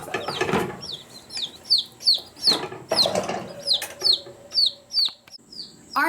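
Baby Ameraucana chicks peeping in a brooder, a steady run of high, close chirps repeating roughly every half second, over faint rustling and a low background hum, with no talking.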